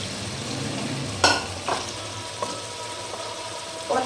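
Carrots tipped into a pan of frying tomato-onion masala for an aloo-gajar sabzi, with a steady sizzle under a few sharp clanks and scrapes of a spoon stirring against the pan.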